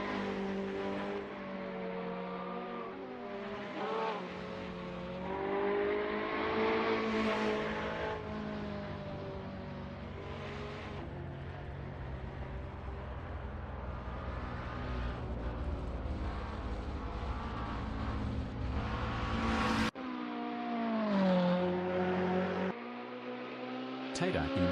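Porsche 911 GT3R race cars in a racing video game at Lime Rock hold a loud, steady engine roar with rising and falling pitch across the whole stretch, under continuous commentary.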